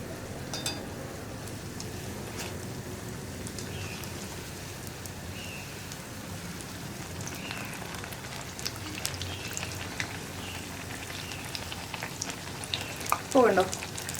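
Sliced plantain bajji deep-frying in hot oil, a dense continuous crackling sizzle throughout, with a brief louder scrape and bubbling burst near the end as a piece is turned over.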